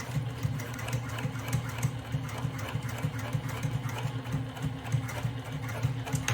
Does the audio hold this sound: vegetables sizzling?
no